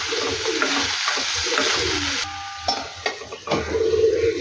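Potato curry masala being stirred in a pan, a steady scraping and sizzling texture that drops out briefly partway through before resuming at close range.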